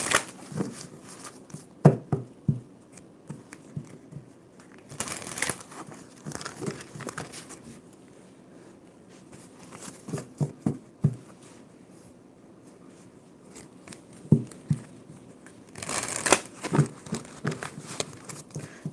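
Playing cards are shuffled in several bursts of quick riffling and shuffling, with soft handling noises in the quieter stretches between.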